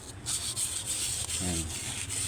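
Fine sandpaper rubs round and round on a small electric fan part, a steady scratchy hiss broken by brief pauses, close and fairly quiet, with a short spoken word midway.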